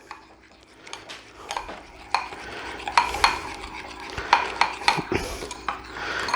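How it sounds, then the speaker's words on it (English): Sliced apples stirred with cinnamon, nutmeg and white sugar in a bowl for apple crisp, as a run of irregular spoon clinks and soft scraping that grows busier and louder toward the end. "We're just going to mix that all up nice."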